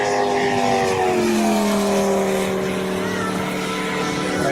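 A live-streamed aircraft engine runs loud and steady, its tone sliding slowly downward like a propeller plane slowing or passing, with a continuous broadband roar throughout.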